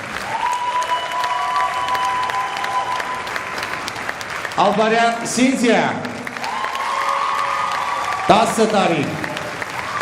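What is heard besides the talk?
audience applause at an award ceremony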